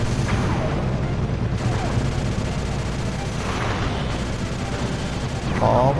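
Rapid gunfire and explosions from turret shooting at incoming missiles in the Sly 2 video game, a dense continuous barrage with booming impacts, steady and loud throughout.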